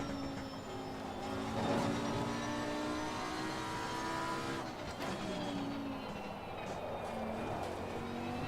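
Race car in Assetto Corsa Competizione sliding on overheated tires, a steady loud engine drone with gliding whine harmonics and tire noise running continuously without speech.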